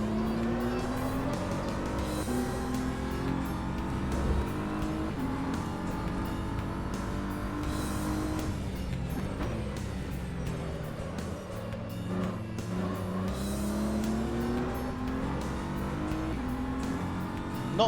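A BMW M4 GT3 race car's engine in the rFactor 2 racing game drones steadily through a lap, its pitch rising and falling with shifts and throttle, loud and continuous with no talk.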